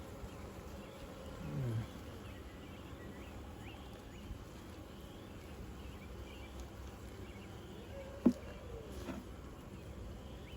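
Honeybees buzz in a steady, soft drone all around an open hive of five-frame supers and two brood chambers during an inspection, with a faint thump partway through.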